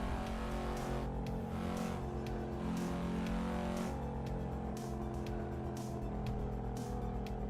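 A Volvo's engine revs hard in the Assetto Corsa racing game, a steady loud drone with rising and falling pitch under constant road and tire noise across the whole stretch.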